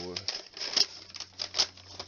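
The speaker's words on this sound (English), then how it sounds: "Parchment. That's what it's called. It's super loud." Parchment paper from a G Fuel starter kit crinkling and rustling in hand, a series of close, loud crackly bursts.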